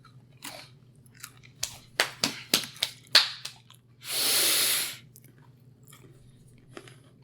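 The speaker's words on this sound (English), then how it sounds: "I'm still chewing." A person chews food close to the microphone, a run of sharp crunchy bites in quick succession followed by a brief hissy rustle, then quiet soft chewing.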